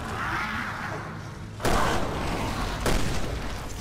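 Gunfire in the survival horror game Resident Evil Revelations 2, two sharp, loud shots a little over a second apart over a low background rumble.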